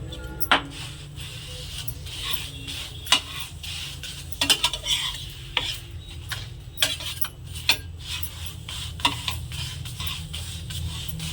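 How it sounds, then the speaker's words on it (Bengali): Paratha shallow-frying in a little oil in a pan, a steady low sizzle with repeated sharp clinks and scrapes of a utensil flipping and turning it, close and unbroken, with no voice. "দুটি ভালোভাবে উল্টিয়ে পাল্টিয়ে ভেজে নিচ্ছি"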